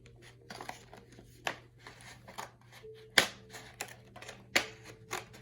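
Scissors snip through paper in a series of short, crisp cuts with uneven pauses between them, close by and fairly quiet, with no talking.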